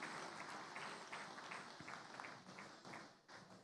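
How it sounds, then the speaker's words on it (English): Audience applause at a gala dinner for an African food prize ceremony, a sustained wash of many hands clapping that stays fairly steady before thinning slightly near the end, with no talk over it. "Please, a round of applause for a great work that they've just done."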